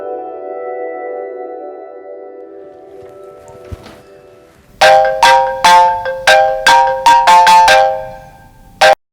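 A phone ringtone plays a repeated burst of bright electronic tones after a steady low hum, loud and close, with no talking.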